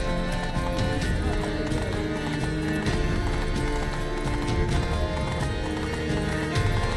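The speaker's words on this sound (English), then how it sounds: "You stupid fucking horse." Horse hooves pound steadily at a gallop in The Witcher 3: Blood and Wine, loud and continuous over a busy background of music and game sound effects, with a brief whinny.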